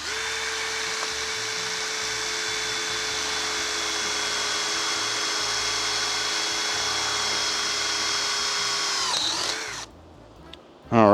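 A power drill bores through metal in one long, loud, steady whine under close load, and the pitch sags slightly before the motor stops, leaving brief quiet handling noises.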